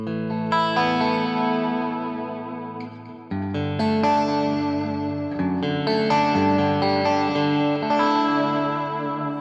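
Electric guitar played through a Two Notes Genome preset with Foundry and Albion amps running in parallel, then delay, reverb, EQ and a compressor, ringing out sustained, heavily processed chords that swell and overlap continuously with no talking.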